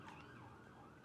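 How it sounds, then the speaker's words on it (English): An ambulance siren passes by outside, a steady, fairly faint wail held for the whole moment, with a sharp click at the very end. "Now I just waiting for the ambulance to go by."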